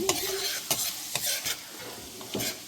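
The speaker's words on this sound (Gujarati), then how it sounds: "આદુ લસણ સંતળાઈ જાય એટલે આપણે નાખી દઈશું ડુંગળી." Onion sizzles in hot oil with ginger and garlic over high flame, steady frying hiss broken by several sharp scrapes and clanks of a spoon stirring in the pan, close and loud with no talk.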